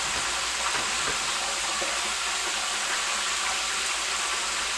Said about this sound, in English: if you can hear me over the noise of this thing bubbling